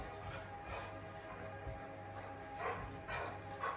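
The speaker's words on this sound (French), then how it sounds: "J'essaye de calmer mes chiens, mais je ne sais pas si ça va marcher." Dogs bark and yip in short bursts, fairly faint and somewhat distant, against a quiet background.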